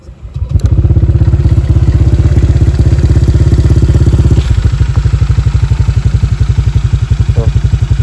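A Honda Vario motorcycle engine idles close by with a steady, fast putter, revving briefly early on before settling into an even, slightly rougher rhythm.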